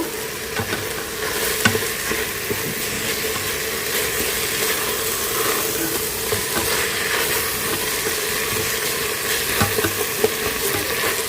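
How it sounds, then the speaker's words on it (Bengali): Rice with spices frying and stirred in a pan, a continuous close hiss and sizzle with scattered scraping clicks of the spoon, steady and loud throughout without speech. "এখন তো চালটা ভালো করে কষায় দিব"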